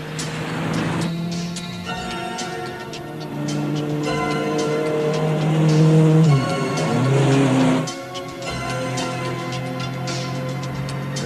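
A car is driven hard, its loud engine revving up and falling back in sustained, shifting pitches for about eleven seconds.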